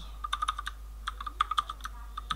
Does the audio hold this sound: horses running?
no